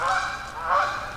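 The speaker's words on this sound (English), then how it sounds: "got a goose" A goose near a canal lock gives two loud, nasal honks in quick succession, close by and clear.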